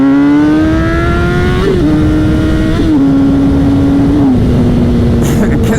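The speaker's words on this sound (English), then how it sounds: "It is so loud with that Tosh exhaust." A loud Honda CBR600RR engine with a throaty Tosh exhaust drones close by, its pitch climbing steadily through the gears with brief dips at each shift.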